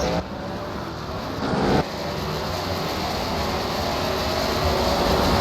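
Late model stock cars cross the finish line at Daytona, a dense, loud engine roar that swells briefly and then holds steady as the field passes.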